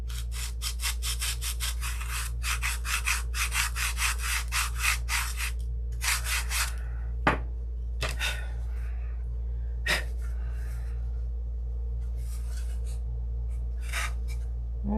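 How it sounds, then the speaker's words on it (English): Sandpaper rubbing the underside of a wooden turtle deck for a Sig Magnum model airplane: quick rhythmic back-and-forth strokes up close, then slower scattered rubs and a few sharp taps in a quiet room. "sand the bottom of this"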